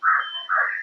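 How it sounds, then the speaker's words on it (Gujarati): Birds call out in a forest clearing around a secluded Mahadev temple, two drawn-out, rasping calls in quick succession at moderate volume with no talk. "પક્ષીઓ છે એ પણ ચરી રહ્યા છે."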